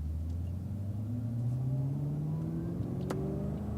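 A Cadillac CTS-V accelerates onto a race track, its engine note climbing steadily through the gears as a close, continuous rumble with rising pitch and a brief sharp click near the end.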